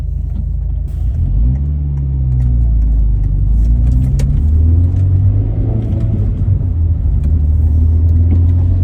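A 2000s rally car's engine idles just after start-up, a deep, close rumble with a few revs rising and settling, and no talking over it.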